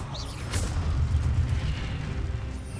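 Incendio fire spell cast during combat in the Hogwarts Legacy video game, a sudden bright whoosh-burst followed by a deep rumbling boom that rolls on for a couple of seconds, loud and close.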